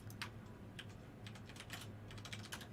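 Fingers typing on a computer keyboard, a quiet stream of quick key clicks in uneven bursts, close by with a low background hum and no speech.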